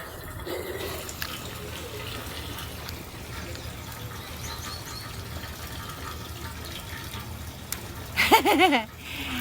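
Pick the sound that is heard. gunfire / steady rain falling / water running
water running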